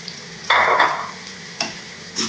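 Onions and capsicum frying in a pan for a fish fry, with a soft sizzle punctuated by two or three louder bursts of stirring and scraping, close and without speech.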